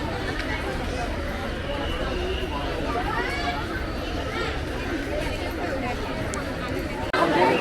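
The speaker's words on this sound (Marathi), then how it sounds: "बाहेर निघायला फार गर्दी इथे." Dense crowd chatter at the Mount Mary church fair at the Basilica of Our Lady of the Mount, a steady wash of many overlapping voices and bustle all around, continuous throughout with a slight rise at the very end.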